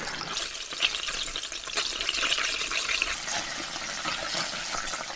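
Ginger garlic paste fries over low heat in the oil left from frying onions, giving a soft, continuous sizzling hiss that stays even and unbroken throughout.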